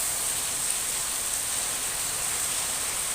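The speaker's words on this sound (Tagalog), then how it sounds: "malakas ang ulan" Heavy rain makes a steady, dense hiss with no let-up and no voices.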